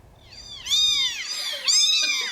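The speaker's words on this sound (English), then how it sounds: "5 tiny black and white kittens, not quite 2 weeks old, still unable to hear, their eyes just starting to open" Five tiny black and white kittens, under two weeks old, mewing in high, overlapping cries, several close calls rising and falling in quick succession.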